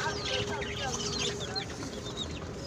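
A hen and her chicks clucking and peeping on a rooftop in Chennai, a busy close chorus of short chirps and clucks over a steady background hum, with a voice talking faintly.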